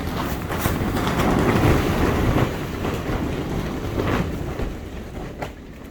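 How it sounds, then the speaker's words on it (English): Strong wind gusting across a microphone outdoors beside a walipini greenhouse garden, a loud, continuous rushing roar that swells and eases with no voices. "Wind's whipping."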